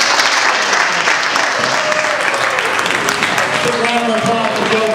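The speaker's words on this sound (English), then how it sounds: "Big round of applause for Joe Penny." Crowd applause at a campaign kickoff party, dense clapping spread across the room with voices talking and calling out over it, sustained at a steady level.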